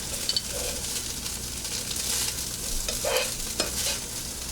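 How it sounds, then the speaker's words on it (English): Steady, crackling sizzle of rice frying in a hot pan, with scraping stirs and occasional louder bursts as it's moved around, no voices. "You want that sizzle."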